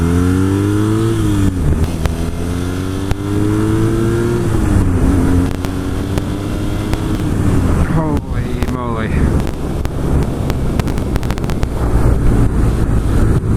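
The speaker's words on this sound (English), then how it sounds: "And it is an opposite twin boxer engine." A BMW R nineT Cafe Racer's boxer twin engine thrums steadily up close, with rising and falling revs, wind buffeting the microphone throughout.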